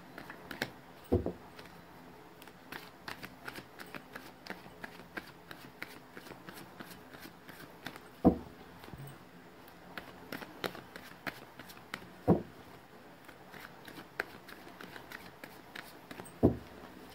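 Tarot cards being shuffled and drawn close by: a steady soft riffle of card edges broken by a few louder slaps and taps as cards are laid down, quiet and without talk.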